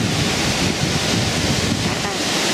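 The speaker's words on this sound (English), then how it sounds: "Really windy." Strong Hurricane Matthew wind gusts roar continuously and loudly past the microphone outside a house, a dense, unbroken rush with buffeting noise throughout and no speech.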